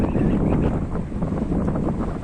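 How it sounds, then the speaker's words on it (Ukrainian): Strong wind buffets the microphone in a steady low roar, with gusty rumbling throughout and no clear voices. "Сьогодні вітряно, так що можливо звук буде неважний."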